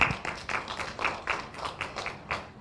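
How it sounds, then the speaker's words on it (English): Audience hand clapping at a rule of law report presentation, a steady patter of claps from a modest group, fairly close with repeated swells and no talk over it. "Let's give him a hand clap."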